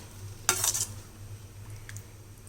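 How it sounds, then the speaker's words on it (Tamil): A short burst of scraping and stirring in a pot of sambar, about a third of a second long, then a few faint clinks over a low steady hum. "நம்ம இன்னும் கொஞ்சம் தண்ணி விட்டு கலக்கிடலாம்"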